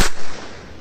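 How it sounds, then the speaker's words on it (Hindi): A firecracker bursts close by on a terrace at night, a sharp loud crack followed by a brief crackling decay that fades away quickly, with no voices. "अभी महाराज यहाँ पटाखे फोड़ रहे हैं"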